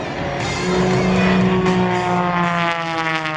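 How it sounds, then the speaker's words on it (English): Propeller aerobatic airplane with a Hartzell propeller performing a torque roll at an air show, its engine droning loud and steady with a strong harmonic whine that shifts slightly in pitch throughout. "as he backs it up through his own smoke, doing what is known as a torque roll, hanging it on that Hartzell propeller"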